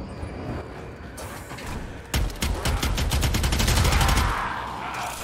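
Twin Kohmak shotgun pistols firing in Warframe: a loud, rapid stream of blasts that starts abruptly after a quieter stretch of ambient battle noise and accelerates into a dense, sustained volley.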